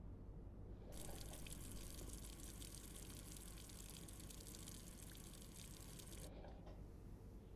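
A kitchen faucet runs in the Blue Prince video game, a steady close rushing stream of water that starts abruptly, pours evenly for several seconds, then cuts off.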